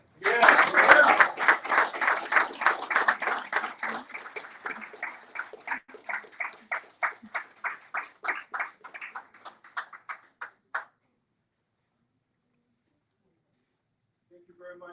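Audience applause at a political campaign event for a judicial candidate: dense, loud clapping that starts at full strength, then thins into scattered claps and stops after about eleven seconds, leaving near silence.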